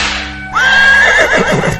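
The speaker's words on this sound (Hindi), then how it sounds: "गाड़ी वाले ने चाबुक चलाई और घोड़ा गाड़ी दौड़ गई" A horse whinnies loudly as a horse-drawn carriage sets off after the driver cracks the whip, a rising then wavering neigh that trails into snorting breaths, with no talking.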